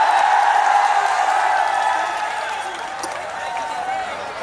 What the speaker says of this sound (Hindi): माताजी को जोरदार तालियों से स्वागत करें